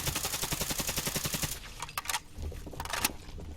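Rapid automatic fire from a modded AK 400 rifle in Fallout 4, a dense burst of evenly spaced shots for about a second and a half, then a few scattered sharp reports and mechanical clicks.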